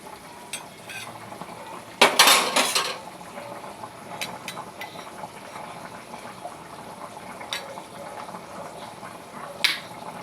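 A metal spatula scrapes and prods taro corms in a pot over the stove, with a loud clattering burst near the start, then a few softer clinks and light stirring against a steady low cooking hiss.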